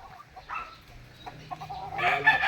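Chickens and hens cluck close by on a small farm in Pangasinan, with short, scattered calls and a louder cluster of clucks near the end, heard alone without talk.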